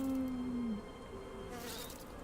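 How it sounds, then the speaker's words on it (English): An insect-like buzz from bees in the video game Last Epoch, a low droning hum that fades after under a second and leaves a faint game ambience with no talking. "Hard to really tell if the bees were working out there very well or not."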